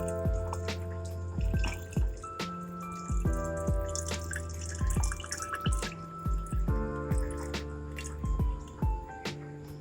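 Water trickles and drips steadily into a low-tech Iwagumi-style aquascape tank as it is topped up, with splashy drops and small liquid impacts repeating in an irregular rhythm, close by and without speech.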